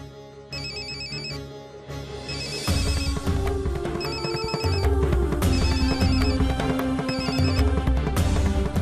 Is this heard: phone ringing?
yes